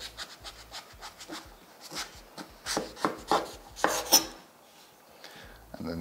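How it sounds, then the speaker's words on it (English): A knife chops peeled, cored breadfruit into bite-sized pieces on a board, a close series of short, uneven cutting taps and scrapes with no talking. "So I'm gonna cut it into bite-sized pieces."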